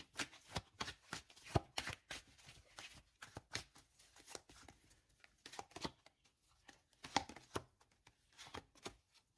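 Tarot cards are shuffled close up in a quiet room, giving a string of crisp, irregular riffling snaps and soft slides.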